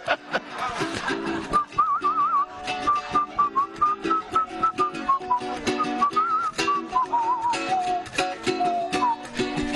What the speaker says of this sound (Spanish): Yo silbo y...